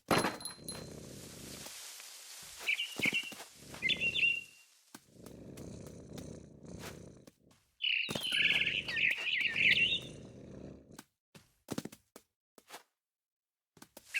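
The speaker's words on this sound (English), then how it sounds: "Then I heard chirping outside my window. It was a barn swallow going back to her nest." Barn swallow chirps from the video game What Remains of Edith Finch come in scattered bursts over a low rumbling purr, with soft thumps and shuffling throughout.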